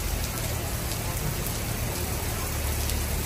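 Heavy rain pours outside a McDonald's restaurant in Slovakia, a dense, steady hiss of downpour close by with no letup.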